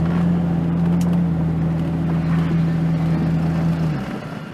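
A 1980 Datsun 280ZX engine drone holds a constant pitch for several seconds, then drops off and fades near the end; no speech over it.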